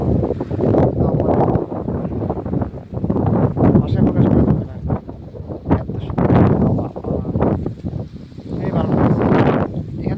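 Gusty wind at Koyakhata village buffets the microphone in loud, rumbling bursts that rise and fall throughout, with no clear pauses.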